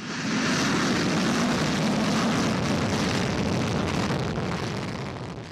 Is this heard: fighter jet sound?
yes